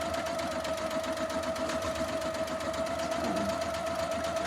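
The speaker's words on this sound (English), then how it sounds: "Now it's doing a satin stitch." Janome MC230E embroidery machine sewing a satin stitch on an in-the-hoop owl stuffy, a steady fast mechanical whir with rapid needle ticking and a constant tonal hum, close and even throughout.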